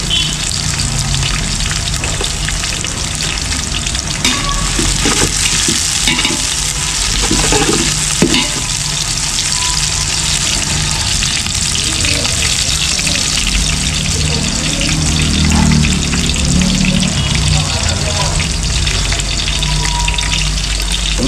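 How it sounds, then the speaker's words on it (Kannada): Onions and chillies fry in a pan, giving a loud, steady sizzle with occasional stirring scrapes and a low rumble underneath, with no talk. "ಈರುಳ್ಳಿನ ಸ್ವಲ್ಪ ಫ್ರೈ ಮಾಡಿಕೊಂಡು ಮೆಣಸಿಕಾಯಿ ಮೆಣಸಿಕಾಯಿ ಹಾಕೋತಾ ಇದ್ದೀವಿ"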